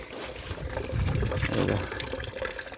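Water poured from a container onto the soil around coconut palms in a Konkan garden: a steady splashing gush that swells in the middle, with a faint voice in the background.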